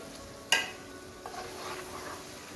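Chicken keema with capsicum is stirred in a pan: one sharp clink of the spoon, then soft, faint scraping and a light sizzle close by.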